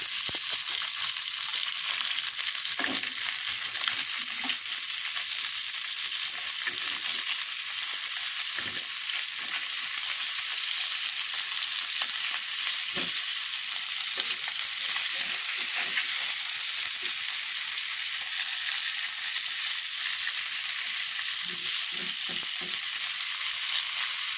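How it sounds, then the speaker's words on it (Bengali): Fish frying in hot oil, giving a steady, even bright sizzle with occasional soft pops and faint stirring knocks underneath, continuous and close. "একটু মাছ ফ্রাই করে নিলাম"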